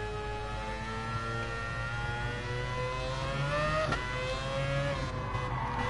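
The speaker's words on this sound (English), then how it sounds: "They sound like old F1 cars." Several racing cars in the video game GT Sport scream past at high revs, their engine whine rising and falling steadily with no talk, a loud continuous roar.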